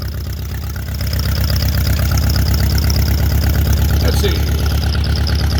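Old Allis-Chalmers tractor engine idling nearby with a steady, loud low chugging rumble throughout, someone speaking briefly over it.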